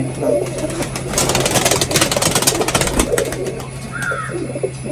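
Pigeons in a loft coo softly and repeatedly, close by, with low throaty calls layered over a steady background hum and some rustling.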